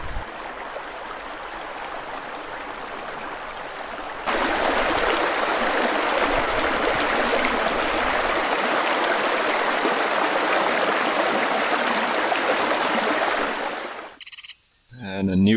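A side river flows in rugged wilderness terrain, a steady broadband rush of water that grows louder partway through as it is approached, ending with a brief clatter and cutoff.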